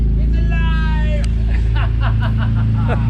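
A Nissan 300ZX fitted with an RB26 engine runs at a steady rumbling idle nearby while excited voices talk and exclaim over it.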